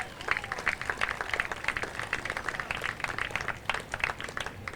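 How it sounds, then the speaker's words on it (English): Outdoor crowd applause at a park opening and dedication in Waterbury, a moderate mix of scattered individual claps, uneven and fairly close, with some voices underneath. "Big round of applause for Monsi."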